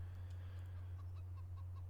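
Chickens in a coop in the Farming Simulator 25 video game cluck in soft, scattered short calls over a steady low hum, faint and somewhat distant, with no talk.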